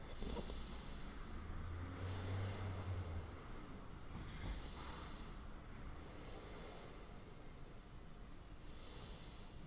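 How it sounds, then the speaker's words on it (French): Slow, deep breaths during a prenatal yoga session, a long steady hiss with a few broader swells of inhaling and exhaling, faint and close with no talking. "On respire profondément."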